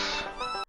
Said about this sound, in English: I apologize if you hear the meowing of my pets.